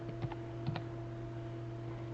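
Computer keyboard keys pressed during a C# WinUI 3 coding session, a few soft, quick clicks in a short burst against a quiet background hum.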